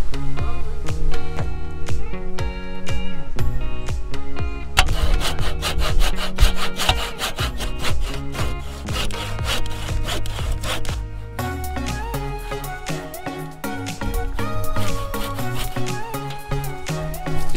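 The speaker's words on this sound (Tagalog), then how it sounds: "lalagyan natin ng konting ukit yung 2x4" A hand saw cuts a notch into a coco-lumber 2x4, giving steady, close-up rhythmic rasping strokes of the blade through the wood with no pauses.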